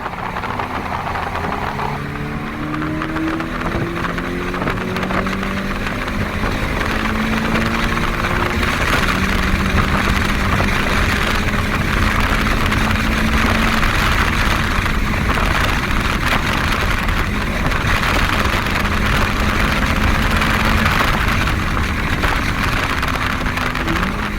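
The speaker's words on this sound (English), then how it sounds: "Off the gas, clutch, shift, on the gas." A 2020 Subaru BRZ with a manual gearbox pulls away and shifts up through the gears, its engine note rising in steady pitched sweeps, dropping at each shift, then climbing again, close and continuous with no talk.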